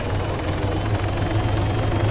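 A helicopter in the military video game Arma 3 thrums with a steady rotor drone and low pulsing beat, moderately loud and continuous, with no talk over it.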